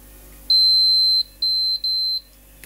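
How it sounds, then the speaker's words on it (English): A continuity tester wired to a Tesla coil setup gives three shrill electronic beeps, the first longest and the last two shorter, clear and close over a quiet background. "I've got a wire from the top now coming into my continuity tester."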